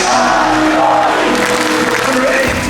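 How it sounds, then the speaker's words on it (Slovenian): Slovenian football supporters cheering at a match in Paris, a loud, dense crowd roar that holds steady throughout with shouts rising out of it. "Slovenci še vedno navijajo."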